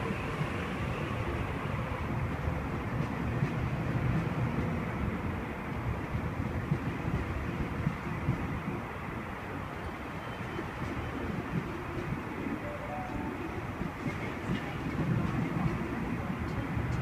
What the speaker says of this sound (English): Here we have A14 departing platform 2,